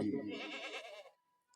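A voice imitates a bleating goat, one wavering, nasal bleat held for about a second, loud and close, then cut off into silence.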